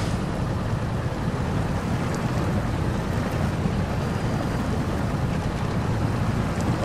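Rushing water churns steadily beneath a vehicle driving through the Expeditions: A MudRunner Game off-road game, a dense, continuous wash of splashing with low engine rumble, loud and unbroken throughout.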